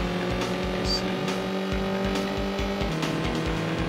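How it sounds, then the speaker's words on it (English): Motorcycle engine in Road Rash on the 3DO console, a loud steady buzzing drone with regular pulsing low thuds and brief higher whines, close and continuous without any talking. "The engine sound is super loud."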